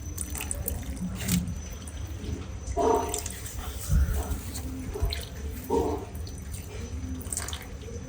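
Water splashes and trickles steadily nearby as small potted plants are watered on a winter morning, with intermittent gurgling pours and occasional soft knocks, no one speaking.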